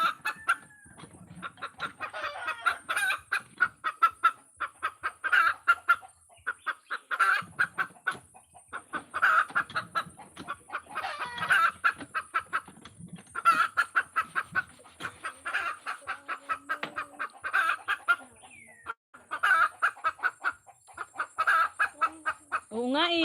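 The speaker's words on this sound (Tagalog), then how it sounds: "Ang ingay ng manok." Hens cluck repeatedly in quick bursts, with occasional louder squawks as they look for a place to lay eggs, close by and fairly loud; no talking.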